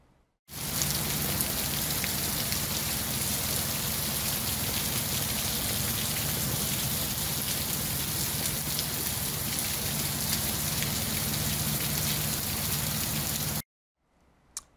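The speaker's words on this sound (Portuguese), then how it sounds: "Ele falou que choveu 23 milímetros em São Jorge do Ivaí." Heavy rain pours in São Jorge do Ivaí during a downpour of 23 millimetres, a dense, steady roar of drops on surfaces that holds loud and unbroken before cutting off abruptly near the end.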